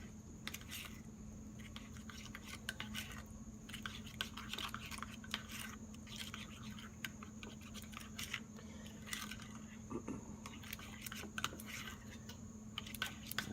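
Ground turkey burger mixture being mixed by hand with smoked paprika, giving a quiet, continuous soft squishing and sticky smacking close by, faint overall, with no talking.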